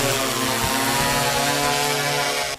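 Thermal-imaging drone flying over a burned brush-fire area in Johnson County, a loud steady rotor whine with harmonic tones that cuts off abruptly near the end.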